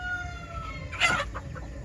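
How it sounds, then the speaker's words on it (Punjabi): Kadaknath chickens, a jet-black breed on a farm, give a brief burst of clucking and crowing near the middle of a short stretch, loud for a moment over low background noise. "ਇਹ ਆ ਗਏ ਕੜਕਨਾਥ ਜਮੀ ਜੈਡ ਬਲੈਕ ਹੁੰਦੇ ਆ ਜਿਹੜੇ"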